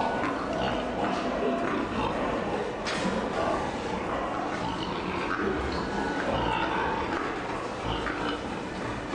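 Pigs on a pig farm grunt and oink in a busy, continuous chorus, several animals close by with overlapping snorts and squeals and no clear speech.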